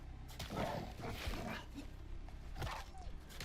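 A wolf in the survival game Icarus growls and snarls in several rough bursts, quiet and somewhat distant.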